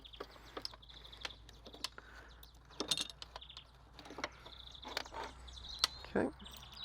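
Birds chirping outdoors: scattered short, faint tweets and calls at a distance, set against quiet background with occasional clicks and handling noises nearby.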